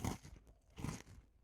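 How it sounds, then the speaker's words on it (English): Biting into a Sour Patch Oreo cookie gives two close, crisp crunches about three-quarters of a second apart, each a brief crackly burst with no talking. "Oh, that's a good crunch."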